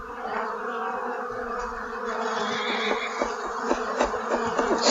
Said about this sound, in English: we got some bees in this one